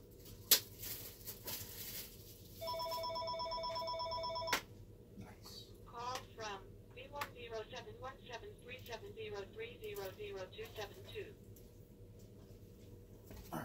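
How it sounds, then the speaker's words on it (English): A phone rings with a steady electronic trill for about two seconds, then cuts off, followed by squeaky chirping sounds as someone talks nearby. "we are not going to answer that phone call"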